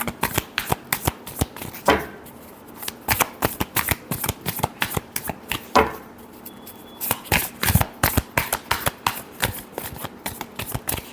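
Tarot cards being shuffled by hand, a long series of rapid, crisp riffling bursts close to the listener, coming in quick rhythmic runs with short pauses between them and no talking.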